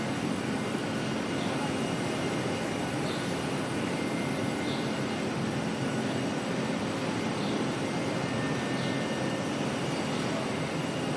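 An airliner arriving from Blenheim at Auckland Airport produces a steady, moderately loud engine rumble and hiss throughout, with no voices over it.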